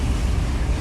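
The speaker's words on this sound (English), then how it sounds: "they about to have us ride through water" C7 Corvette driving through water, heard from inside as a steady low rushing wash and rumble, loud and continuous with no voices over it.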